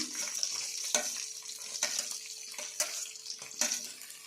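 Onions sizzle in a pan while upma with field beans (avarekaalu) is cooked. A soft, steady frying hiss is broken by a few sharp clinks of a utensil stirring against the pan.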